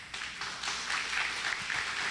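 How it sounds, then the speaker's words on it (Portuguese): Sustained applause from a church congregation, a dense wash of clapping that swells slightly and continues throughout. "Aplauda bem forte ao Senhor."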